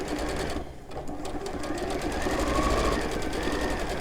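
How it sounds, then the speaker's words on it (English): A sewing machine runs steadily, stitching the side edges of a weekend bag with turned-over self-facings, a continuous close whirring hum throughout with a brief dip early on. "sewing the side edges up, and we've turned over those self-facings"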